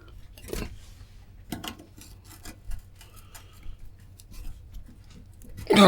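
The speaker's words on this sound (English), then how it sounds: "there's quite a bit of corrosion on this thing, by the way, which is making it a bit difficult to get some of these screws out" Corroded, seized screws are worked loose on an old US-made JBL MPX600 amplifier, giving quiet intermittent scraping, rasping turns and small clicks of a screwdriver, close up, with a louder knock at the end.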